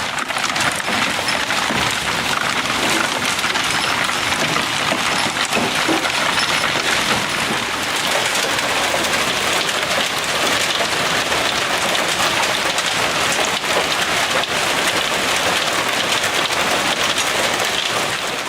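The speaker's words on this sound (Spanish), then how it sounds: "pero luego el viento trajo granizo" A loud, unbroken roar of wind-driven hail pelting down during a storm, a dense patter of countless impacts that never lets up.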